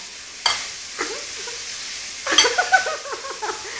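Food sizzles and crackles in a pan, with a few sharp stirring scrapes and louder bursts of frying partway through.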